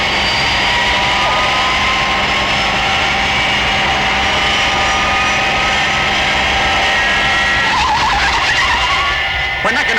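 A Fireflash airliner from a TV puppet drama brakes hard on a runway, giving a loud, sustained roar of engine and tyre noise that holds steady throughout, with a rising screech near the end.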